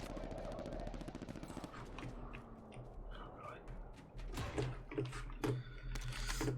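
Pistol fire in Call of Duty: Modern Warfare Warzone, a few sharp shots cracking out in the latter half over continuous game noise, with a voice murmuring quietly earlier.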